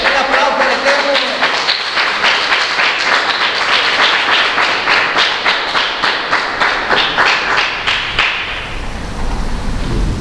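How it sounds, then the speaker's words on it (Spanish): A Spanish-speaking Messianic congregation bursts into loud, dense applause that carries steadily for several seconds before tapering off at the end. "Denle un aplauso al Eterno."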